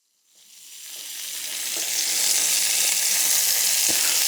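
Food drops into a warm pan and starts frying, the sizzle rising from nothing to a steady, loud, close hiss that holds without talk.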